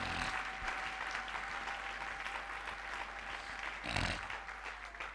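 A church congregation applauds steadily throughout, a dense wash of clapping with a brief louder swell near the end and no speech.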